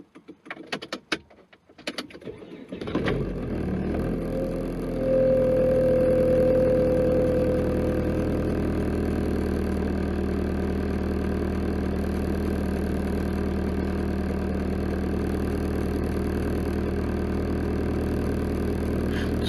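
A Volvo S40 engine turns over after a brief rattle, catches and settles into a steady, close idle with a constant hum and no voices.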